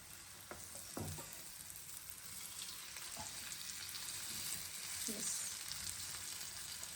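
Egg omelette pizza frying in a pan on a stove, a steady soft sizzle running throughout with a few light clinks and scrapes of a utensil, no talking.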